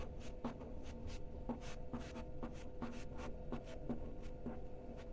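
A pen writing out a chemistry equation on paper, with quiet, steady scratching strokes and regular small taps as letters and numbers are formed, close and alone.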